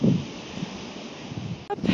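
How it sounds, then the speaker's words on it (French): Wind blows across an outdoor pasture where ponies graze, a continuous rough rumble buffeting the microphone in uneven gusts, with no voices. "il y a du vent"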